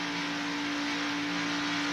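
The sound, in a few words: IROC race car engines at Talladega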